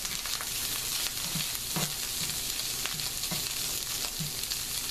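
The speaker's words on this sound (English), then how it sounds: "Gotta get everything touching the pan so it's cooking" Stuffed pasta shells and vegetables sizzle steadily in a hot pan, a constant bright frying hiss with a few soft stirring knocks scattered through it.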